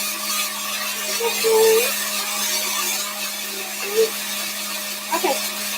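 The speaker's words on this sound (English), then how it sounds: "Is this a blender?" A kitchen blender runs in a steady, moderately loud drone with a thin, constant whine, while voices speak faintly over it now and then.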